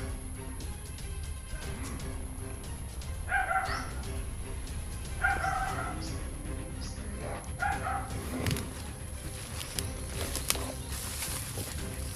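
A dog barks in three short harmonic bursts a couple of seconds apart, moderately distant, over a steady noisy outdoor background.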